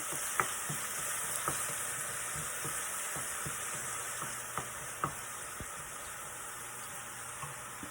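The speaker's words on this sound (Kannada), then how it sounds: "ಕರಿಬೇವಿನ ಸೊಪ್ಪು ಹಾಕ್ಕೊಂಡಿದ್ದೀನಿ. ಫ್ಲೇವರ್ಗೆ ಚೆನ್ನಾಗಿ ಫ್ರೈ ಮಾಡಿ." Curry leaves crackle in hot tempering oil for a puffed rice breakfast dish, a constant soft sizzle punctuated by a steady series of light stirring clicks, heard alone without voices.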